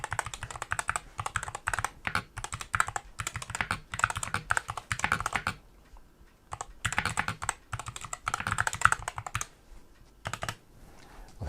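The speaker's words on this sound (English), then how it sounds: "I'm going to do some typing now and you can hear what it actually sounds like" Typing on an Endgame Gear KB65HE aluminium CNC-milled gaming keyboard with Gateron Hall Effect switches: quick bursts of crisp, close keystroke clicks, with a short pause midway before the typing resumes.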